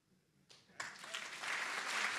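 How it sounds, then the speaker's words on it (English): Audience applause for award recipients at a recognition ceremony, starting quietly and swelling into steady, fairly loud clapping from a crowd. "Please join us in one last round of applause for our Hero Everyday Award recipients."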